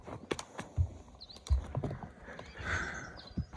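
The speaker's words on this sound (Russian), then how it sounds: "Так, лошадкам принесли завтрак." Horses on Mount Teide in Tenerife, with hooves clip-clopping and stamping close by at feeding time and a brief whinny, all in an outdoor setting with no talk.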